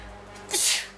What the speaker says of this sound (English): Oops, I just sneezed.